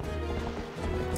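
A horse gallops in the video game Wind & Twilight, a quick run of muffled hoofbeats under a layer of game music and effects, close and fairly steady with no voices.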